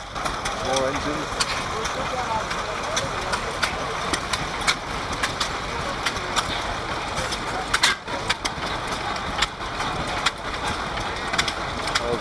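Vintage stationary engines running at a steam rally, a busy outdoor mix of ticking, clanking mechanical beats and engine chug, with scattered sharp clicks and people talking nearby.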